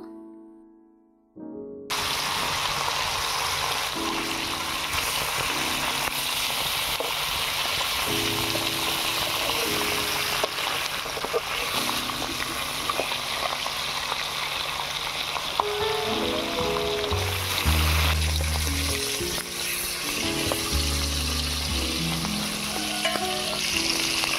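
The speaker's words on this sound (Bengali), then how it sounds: "এবারে ইলিশ মাছগুলো ভেজে নেব।" Hilsa fish pieces fry in hot oil for a biryani, a continuous close sizzle and crackle lasting throughout with melodic background music underneath.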